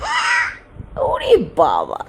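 A child imitates a bird's shrill, screeching call, such as a macaw, with a few short, wavering shrieks close to the microphone, mixed with adult speech.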